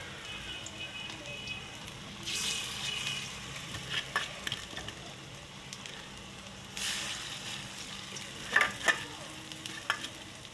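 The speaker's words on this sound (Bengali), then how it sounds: "চালের গুঁড়া দিয়ে বড়া ভাজছি।" Rice-flour fritters fry in very hot oil in a wok, a steady low sizzle with occasional louder hissing swells and scattered stirring clinks, faint and without talk.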